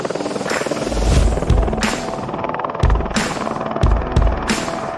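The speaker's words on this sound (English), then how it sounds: "The Air Greenland helicopter heads to town to pick up the remaining members" An Air Greenland helicopter flies over ice, its rotor thumping in a steady rapid chop with louder pulsing surges as it passes, fairly close and without speech.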